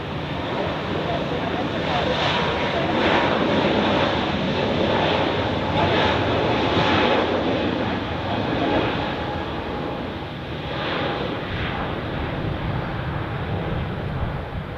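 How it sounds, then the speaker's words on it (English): An airliner takes off from runway 28 at Zurich Airport, a steady broad jet roar holding loud and even throughout, with a person talking over it. "Next departure on 28 has just received takeoff clearance."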